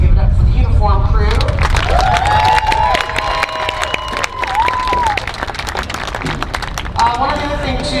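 Crowd at a school fall gathering of parents and students claps and cheers for the uniform crew, a dense sustained burst of applause with voices and a speaker's talk over it.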